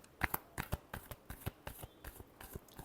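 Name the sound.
shuffling tarot cards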